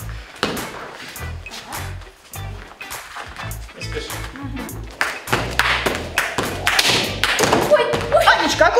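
Door banged hard and carelessly in a gym setting, followed by a run of loud close thumps and knocks with scattered clapping-like hits, growing busier and louder toward the end.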